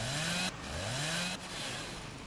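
Chainsaw revving in the zombie video game Dead Island: Riptide, a loud continuous engine whine that shifts pitch in two cuts, filling the whole clip without speech.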